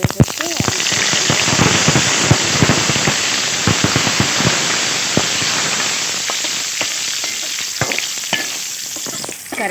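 Curry leaves crackling in hot oil with mustard seeds, lentils and cumin for a tempering, a loud continuous sizzle full of sharp pops and spits throughout, with a voice speaking over it.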